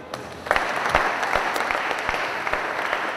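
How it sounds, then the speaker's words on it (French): An audience at a scientific conference applauds after a speaker's talk, a moderate patter of clapping with a few sharper individual claps standing out. "Il faut encore l'applaudir."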